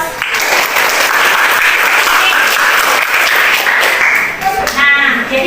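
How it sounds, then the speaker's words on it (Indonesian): A classroom of student teachers in a music lesson applauds presenters with steady, loud clapping that fills the room for several seconds, tailing off at the end alongside faint voices. "kita berikan aplaus kepada teman kita karena sudah mempresentasikan hasil diskusinya."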